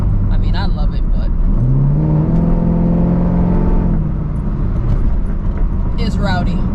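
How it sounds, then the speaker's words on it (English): A loud, rowdy Chevrolet Camaro engine drones and revs while driving on a bumpy road, heard from inside the car, with a person talking over it. "the reason I'm trying it out with the Camaro is because just how loud and rowdy it is"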